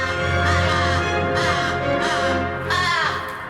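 A massive raven caws in a backyard bird-bathing spot in Australia, several loud, harsh calls close by, set against a constant wash of other bird chatter and background noise.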